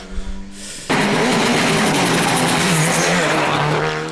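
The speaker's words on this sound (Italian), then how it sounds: "Il suono sembra quasi quello di una Evo. Madonna, sta pop-off." A turbocharged GTR engine revs hard and loud, a roaring, crackling exhaust note with pops sustained after a brief idle at the start.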